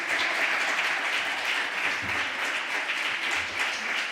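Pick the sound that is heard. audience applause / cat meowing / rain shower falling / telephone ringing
audience applause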